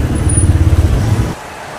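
Road traffic on a long ride from Manila to General Trias, Cavite, a dense low rumble of engines with a pulsing motor throb that suddenly cuts to quieter background.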